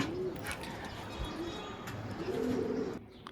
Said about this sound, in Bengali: দুই জোড়া কবুতর আমি নিয়ে যাব